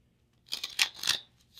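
Goddess oracle card deck being shuffled by hand, a brief papery riffle of rapid crisp flicks lasting about a second, close and moderately loud with no talking.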